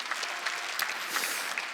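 A church congregation claps during a New Year's Eve service sermon, a steady, dense patter of many hands at moderate distance, briefly filling the hall with no voices on top.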